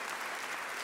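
A brief burst of audience clapping at a jazz award concert, a continuous dense patter with no gaps.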